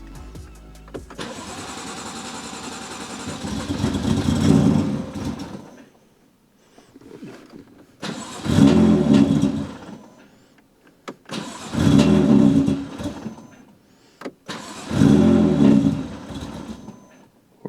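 A BMW M3 F80 engine, built up toward 1,000 hp, turns over for its first start after being flashed, heard as four separate cranking bursts, each several seconds of loud, close churning that stops before the engine catches.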